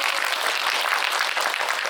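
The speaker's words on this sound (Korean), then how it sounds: "다시 박수 부탁드립니다." An audience applauds after a talk at the 2024 Busan International Film Festival in a cinema, a steady, even wash of many hands clapping at close range with no pauses.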